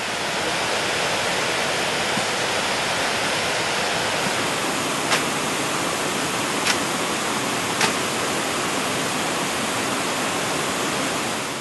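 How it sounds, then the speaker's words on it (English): A mighty waterfall in the Amazon rainforest roars as a loud, dense, unbroken wash of noise, with a few faint ticks briefly standing out over the steady torrent. "you can see and hear the mighty falls as it takes over the jungle ambience"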